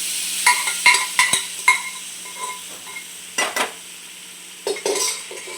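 Pav bhaji being stirred and mixed in a pan: a series of close scraping and clattering spatula strokes come in short bursts against the metal, with a faint sizzle underneath and brief pauses between strokes; nobody speaks.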